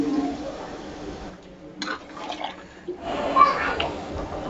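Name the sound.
water added to cooking gila tengri in a pan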